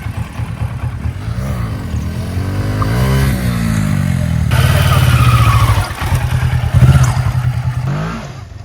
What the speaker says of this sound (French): Regarde, il va nous faire des wheelings.